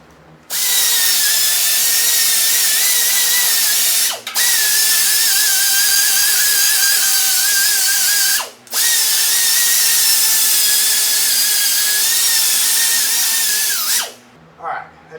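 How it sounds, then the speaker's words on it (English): A power tool strips paint off a trike frame in three long, loud, continuous runs with brief pauses between them, whining steadily at close range. "it's time to get this paint off the frame."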